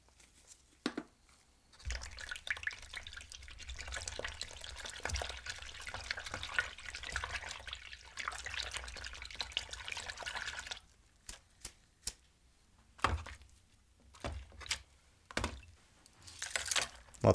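Water from a tap runs and splashes in faint, intermittent bursts while parts of a pink Nintendo 3DS XL are washed, with short quiet gaps between the runs.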